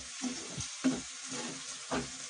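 Pav bhaji masala sizzles in oil while a spoon stirs it, with a steady frying hiss broken by four rhythmic scraping strokes against the pan, heard up close.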